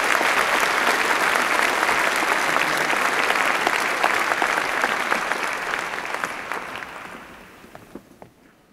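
Applause for a graduating class at a university graduation ceremony, a large audience clapping steadily and loudly before tapering off over the last few seconds into a few scattered claps.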